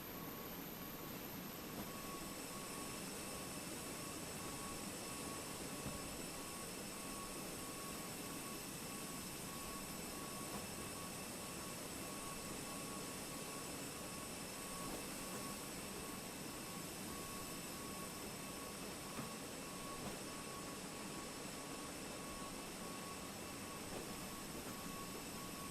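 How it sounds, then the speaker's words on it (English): A Fenix A320 airliner landing in Microsoft Flight Simulator, heard as a continuous broad roar of jet engine and airflow noise with steady tonal whines, unbroken and fairly uniform throughout. "we'll do a quick replay of the landing"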